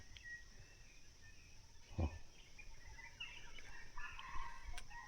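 A chicken clucks faintly in a quiet outdoor rural setting, with one short nearer cluck and a few distant bird calls over low background noise.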